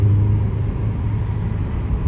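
An Audi S3 Quattro engine rumbles low and steady at close range, a brief shift in tone marking a gear change, with no voices over it.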